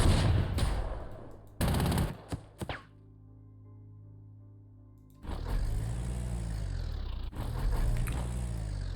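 Anti-tank guns firing in the WWII strategy game Panzer Corps 2: a burst of sharp, loud gunfire at the start, a short low rumbling lull, then a long stretch of heavy, dense booming fire with rolling low thuds.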